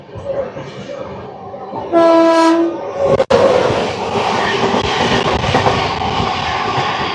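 A train horn blares loudly, then the Garib Rath superfast express train rushes through Charlapalli railway station without stopping, with a continuous roar and rattling wheels.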